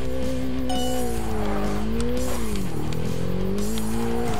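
Car in the racing game Kaido Racer 2 veering onto gravel, a steady loud engine drone with shifting pitch, tire scrubbing and gritty skid noise running throughout.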